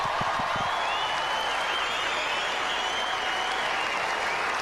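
A large crowd at the 2003 Australian Open quarterfinal between Roddick and El Aynaoui applauds loudly and steadily after the tennis match, a dense, sustained roar of clapping that fills the whole stretch.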